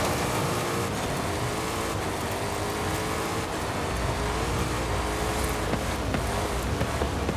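A car in Forza Horizon 5 slides around a corner on a dirt circuit. The engine drones steadily and loudly, mixed with a broad rushing roar of tires and gravel, and the pitch rises slightly toward the end.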